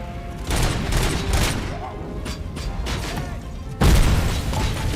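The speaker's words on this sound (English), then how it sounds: "It blew the dead body up." Explosions and bursts of gunfire in RoboCop: Rogue City as a dead body is blown up. Dense, loud booming and crackling run throughout, with a sharp, heavier blast hitting near the end.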